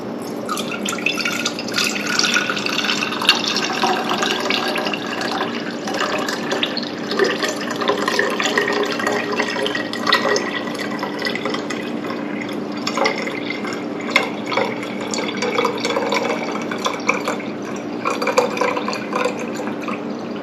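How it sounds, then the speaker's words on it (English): Homemade tonic is strained and poured into a quart canning jar, a continuous close trickle and splash of liquid with uneven dripping that runs for about twenty seconds without talk. "I'm going to strain it just one more time as I pour it through here."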